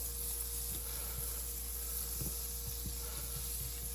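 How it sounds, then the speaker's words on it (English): A faint, steady sizzle of butter in a hot pan while making a French omelet, with a soft hiss and occasional small crackles and taps. "The pan is sizzling, as you can tell"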